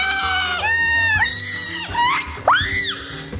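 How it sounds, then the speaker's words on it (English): A person screams loudly and close by in a series of long, rising and falling shrieks during a Nacho Mania board game, with a brief break between outbursts. "Okay, I'm done screaming now."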